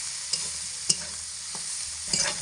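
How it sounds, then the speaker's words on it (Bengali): Star fruit (kamranga) pieces fry in oil over medium heat, giving a steady, bright hiss of sizzling. A few soft clicks of stirring break in now and then, with no talking. "এখানে কামরাঙা তেলের মধ্যে মিডিয়াম আঁচে রেখে মোটামুটি 4 থেকে 5 মিনিট সময় ধরে হালকা লাল করে ভেজে নেব"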